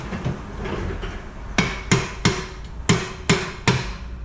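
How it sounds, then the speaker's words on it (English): Metal hammer or pry bar tapping on a stuck car axle from underneath the car, six sharp, evenly spaced clanks ringing out after a stretch of quiet shuffling, close and fairly loud. "All I did was tap it a few times, and the silly axle comes out"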